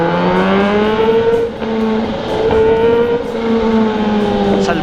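A supercharged Kawasaki Z H2 motorcycle revs its exhaust up close. A loud, continuous engine drone swells and rises in pitch across several throttle blips, with no speech.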